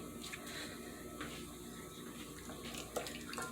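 Water runs steadily from a kitchen tap during hand washing while hot wings are being cooked, a continuous splashing stream with small clinks and bumps throughout.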